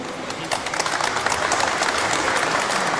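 An audience claps at a factory opening, a dense, steady round of applause from a sizeable crowd that stays loud and even throughout, without speech.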